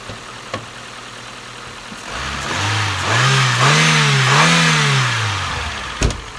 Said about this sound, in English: Let's give it a rev and see if what we've done to make any difference to this engine.